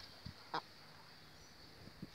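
Chickens kept in a yard with a dog give a few short, faint clucks and squawks spaced apart against quiet background noise.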